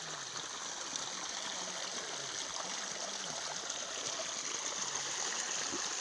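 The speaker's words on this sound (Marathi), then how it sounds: "आवाज शांततेने ऐकून घ्या पाण्याच्या त्या प्रवाहाचा." Steady rush of water flowing in a stream, faint and continuous, with a constant hiss-like wash and no voices.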